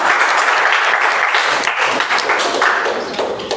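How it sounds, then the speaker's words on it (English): Steady, dense applause from an audience at a men's club gathering for International Men's Day, continuous loud clapping sustained throughout with slight swells. "So a big round of applause"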